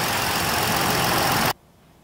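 A Ford Explorer's 3.5-liter V6 idles under the open hood, a loud, steady, close mechanical hum that cuts off abruptly after about a second and a half, leaving near silence.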